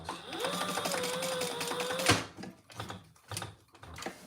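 A sewing machine back stitches a trifold wallet, running steadily for a couple of seconds up to a sharp clack, then continuing in short, stop-start bursts of needle chatter.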